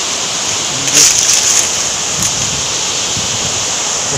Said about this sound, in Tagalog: Yan yung waterfalls nila mga kalisgo